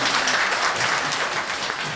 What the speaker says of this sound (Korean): 여러분의 박수가 필요합니다.